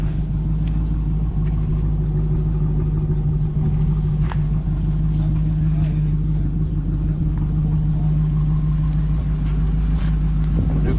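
A square body truck's engine idles with a loud, steady low rumble and hum, close up and unchanging throughout.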